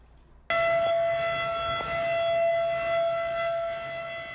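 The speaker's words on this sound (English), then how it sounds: "This siren signals water levels along the Decho, Mackenzie River, have reached 15 meters high." A civil defense flood warning siren sounds along the Dehcho (Mackenzie River) as spring breakup water reaches 15 meters, starting abruptly and holding a loud, steady wailing tone with rich harmonics, heard alone.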